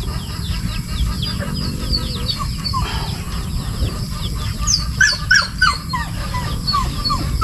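A flock of domestic chickens clucks and squawks continuously nearby, with a few louder calls standing out over a low background rumble.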